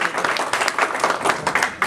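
An audience at a JemCon 2019 session claps in a brief, moderately loud burst of steady applause.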